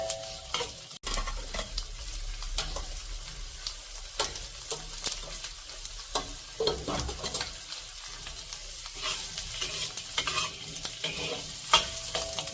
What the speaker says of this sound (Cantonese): 基本上睇到爆嘅啲洋葱好香嘅